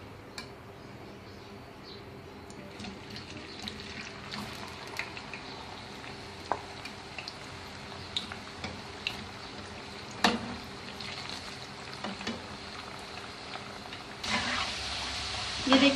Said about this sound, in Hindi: अब हम इनको फ्राई कर लेते हैं